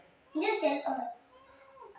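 A single drawn-out cat meow, close and fairly loud, fading into a softer trailing sound.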